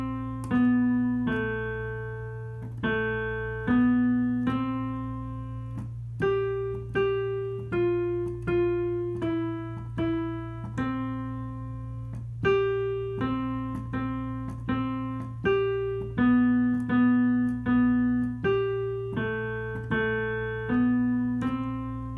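A simple beginner piano song from a lesson book, with a slow single-note melody over a sustained low drone, played evenly and clearly without any talking.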